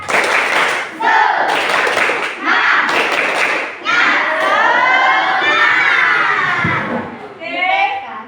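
Schoolchildren in a classroom doing a rhythmic spirit clap in bursts, then shouting together loudly and close, with young voices ringing out between the claps.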